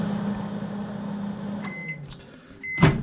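A microwave oven heating pizza pops, with a steady low hum that drops away as it stops, followed by a few short electronic beeps and a final louder clunk of the door, close by and without talk.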